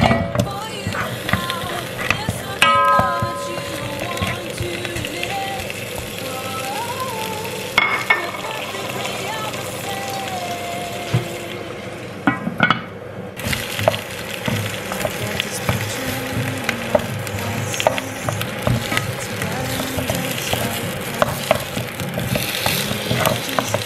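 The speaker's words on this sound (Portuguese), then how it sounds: "vou deixar o azeite aquecer e vou colocar os ossinhos da suá para que eles possam refogar um bocadinho" Pork bones frying in hot olive oil in a home kitchen pot, a steady loud sizzle with scraping and stirring noises throughout, close by.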